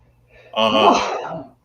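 A single sneeze, close and fairly loud, ending quickly in a short burst.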